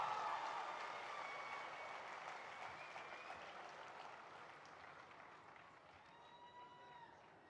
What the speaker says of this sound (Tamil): நல்ல ஒரு கைத்தட்டல் தந்து ஃபாதரை கூப்பிடலாமா?